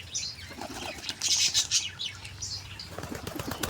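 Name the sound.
pigeon flapping wings landing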